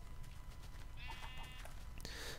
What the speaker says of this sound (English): sheep first. Sheep first. Come on, sheepy.